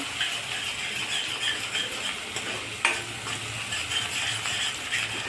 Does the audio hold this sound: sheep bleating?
no